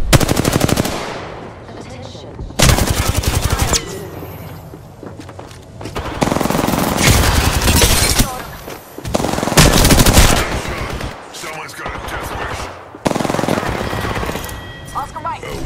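Bursts of automatic gunfire from an Apex Legends match, several loud rapid volleys separated by short pauses, with game voice lines spoken between them.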